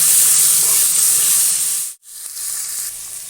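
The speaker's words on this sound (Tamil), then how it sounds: "இப்போ தக்காளி நல்லா வதக்கிக்கலாம்" Tomatoes and onions sautéing in a pan for a lentil rice dish, a loud, close, steady hiss of sizzling that briefly cuts out, then resumes slightly softer.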